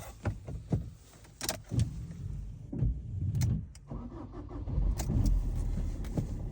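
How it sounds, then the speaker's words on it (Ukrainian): A Fiat Fiorino van in cold weather, heard through a series of clicks and mechanical knocks, then the engine catching and settling into a low, steady idle, close by with no talking. "Двигун працює як годинник."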